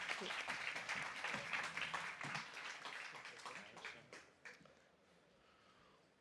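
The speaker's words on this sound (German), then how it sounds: "ihm trotzdem noch einen grandiosen Applaus gönnen" Audience applause at a science slam, a dense patter of many hands that thins out and fades after about four seconds, leaving near silence.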